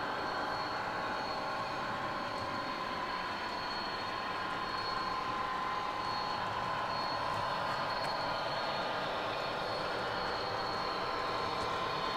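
A model railway train running through the scenic section of a layout, giving a steady continuous rumble with a faint wheel hiss that holds throughout, at close range with no talking.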